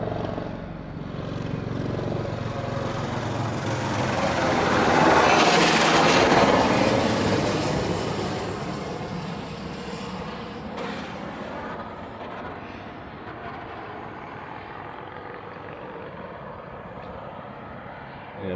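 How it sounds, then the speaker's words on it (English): A Southwest Airlines jet landing at Honolulu after arriving from San Jose makes a rushing engine roar that builds to a loud peak midway, then fades into a lower steady rumble as it slows. "Yeah, that's Southwest in the foreground that just landed."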